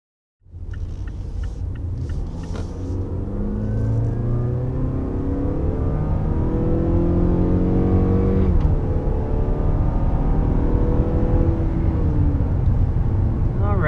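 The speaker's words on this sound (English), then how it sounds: "Accelerating up to about 60 miles per hour with this 2022 CX-5." A 2022 Mazda CX-5 accelerating to about 60 mph, heard from inside as a steady loud engine drone that rises in pitch through rolling gear shifts, with road rumble beneath and no talk.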